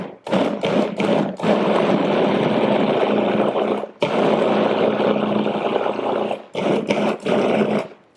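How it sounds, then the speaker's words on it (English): A food processor with its lid locked mixes sweet potato ingredients in a loud, steady whir, running in long bursts broken by short pauses and a few quick pulses near the end. "I use the food processor"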